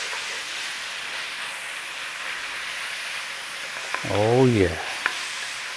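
Minced beef filling for British-style pasties sizzles steadily in a hot pan as a spoonful of ketchup is stirred through, a constant close frying hiss with a brief voice speaking near the end.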